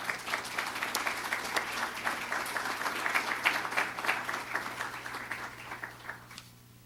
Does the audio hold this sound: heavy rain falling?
no